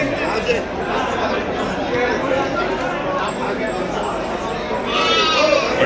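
A four-month-old male lamb on a sheep farm bleats in short cries among other sheep, heard amid close chatter and voices talking.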